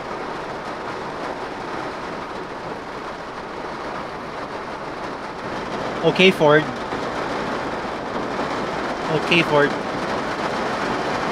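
Heavy rain drumming on a Ford Ranger Raptor pickup, heard from inside the cabin as a steady, broadband hiss filling the whole clip, with two brief louder bursts partway through and a few spoken words.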